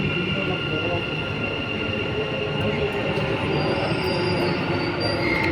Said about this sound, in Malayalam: അതാ അടുത്തൊരു ട്രെയിൻ വന്നതാണ്.